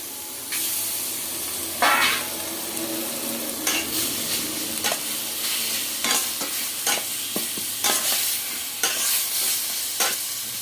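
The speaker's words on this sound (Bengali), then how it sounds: "একদম গ্যাসটা কমানো আছে, হালকা গ্যাসে আস্তে আস্তে করে আমি ভেজে" Carrots and potatoes frying in white oil in a pan on low gas: continuous soft sizzling with repeated spatula scrapes and stirring knocks at an uneven rhythm, close and clear, without speech.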